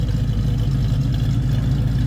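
A 1963 Chevrolet Corvair restomod engine runs with a loud, steady low-pitched rumble, heard close and alone, with no speech.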